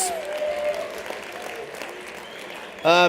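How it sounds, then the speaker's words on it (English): Audience applause at a speaker event for sponsors, following a local construction company and an architecture firm, a steady broad crowd clapping that stays even before a sudden louder burst near the end. "Let's give them a big round of applause, please"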